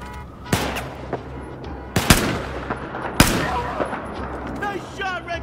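Loud, sharp gunshots crack from Battlefield 4 combat in Baku: a few big, well-spaced blasts with lighter bursts between them, plus shouted voices and radio-like chatter.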